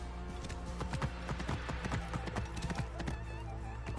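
Horse hooves clop steadily in the video game Assassin's Creed Origins, a close, continuous rhythmic trot over a dense game soundscape, with no talking.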